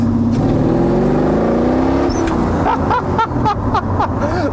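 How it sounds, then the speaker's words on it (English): A Velocity EXO car engine revs up loudly, its pitch climbing steadily as it accelerates, with a rushing roar and mechanical whine nearby. "That engine gets very loud"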